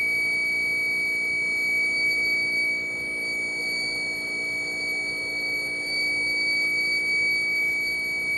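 A cheap solar charge controller in a budget DIY solar kit, running on a low battery, sounds a steady electronic alarm buzz. It is a continuous high tone that holds at an even level throughout, with no pauses.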